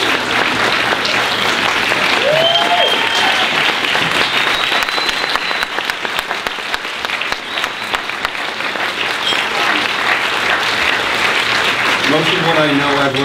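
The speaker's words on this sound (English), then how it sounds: "he deserves a round of applause" Dinner crowd at an awards ceremony clapping for a state representative, loud continuous applause filling the room, with voices and cheering sounds rising over it.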